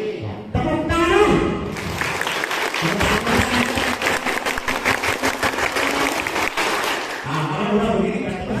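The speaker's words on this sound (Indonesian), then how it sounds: "Tepuk tangan dulu semuanya" An audience breaks into clapping on command, a dense steady burst of many hands that holds for several seconds before tapering off, with a voice speaking over the start and end.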